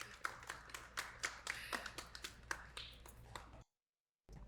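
An audience claps at a dating show, a run of distinct, fairly close hand claps in an uneven rhythm that stops abruptly before a brief silence.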